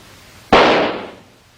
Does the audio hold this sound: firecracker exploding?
yes